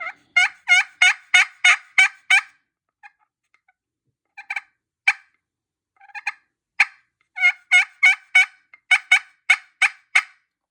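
A friction turkey call played with a striker, its surface roughened with a Scotch-Brite pad, yelps in quick rhythmic runs of clucks and yelps, with brief pauses between bursts, close and clear, no voices.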